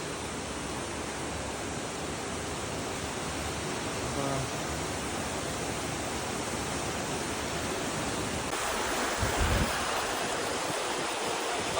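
Water pours in a cave waterfall near Shymkent, producing a constant, dense roar that fills the whole stretch, with a brief low thump toward the end.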